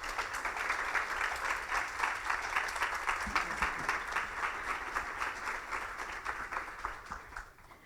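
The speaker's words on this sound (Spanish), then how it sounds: "La recibimos con un fuerte aplauso." An audience at a reading and literacy event in Santa Rosa, La Pampa, gives a loud, sustained round of applause that fades out near the end.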